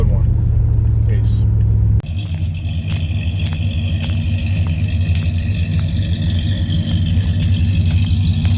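A Ram 1500 pickup with an 8-speed transmission idles, a steady low engine rumble that settles after a brief louder rev at the start, close and continuous with faint talk over it.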